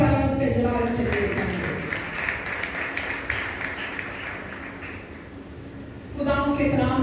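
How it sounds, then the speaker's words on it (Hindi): Congregational applause during a church sermon, a burst of clapping that rises after a voice and holds steadily for several seconds before speech resumes over it. "आई जोरदार तालियों से जलाल के लिए"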